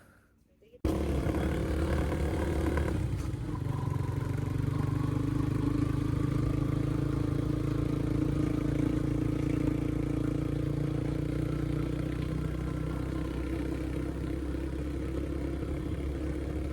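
A motorbike engine starts up and runs steadily, a loud, close droning roar that holds its pitch for the whole stretch.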